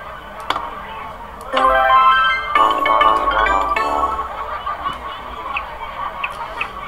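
Toy duck sound from a spin-and-play game, a few loud nasal honking quacks in short bursts, followed by faint clicks.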